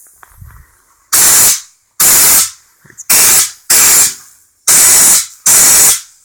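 Compressed air from a Harbor Freight 10 gallon compressor line blasts out in six loud, sharp hissing bursts. Each lasts about half a second, with short quiet gaps and a little handling noise between them.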